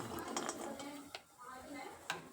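Whole dry spices and coconut are being roasted in a pan for an onion-garlic chili masala. Steady scraping and stirring comes through, with a few sharp metallic clinks of a spoon against the pan and no voices over it.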